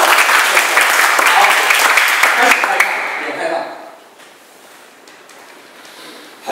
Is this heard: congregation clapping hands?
yes